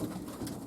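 A single short, soft coo from a pigeon hen in a small loft aviary in Shrewsbury, sounding close and low.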